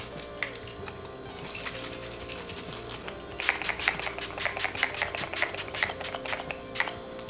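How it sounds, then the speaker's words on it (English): A series of quick, hissing bursts of rose water face mist, first a few scattered pumps, then a rapid run of short sprays close to the microphone. "so I just spray this on the skin to wake my skin up"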